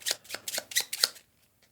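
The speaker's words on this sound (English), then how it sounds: "Shuffle in a horde card." A deck of cards for the board game Tiny Epic Defenders is riffled and shuffled in five quick, crisp bursts, close and fairly loud, then stops with brief quiet after.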